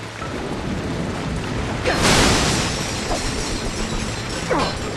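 Steady rain hisses in the video game Ratchet and Clank: A Crack In Time, broken by a loud thunderclap rolling in around the middle and a fainter rumble near the end, with no talking.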